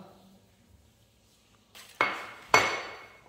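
Melted butter is mixed with za'atar in a dish. After a quiet start come two sharp, close utensil clinks against the dish, with a third starting at the end.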